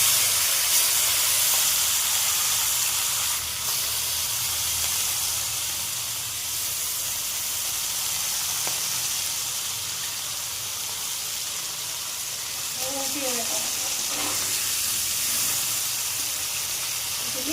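Fish sizzling in hot oil, a continuous loud hiss with little variation and a few faint pops and bubbles near the end.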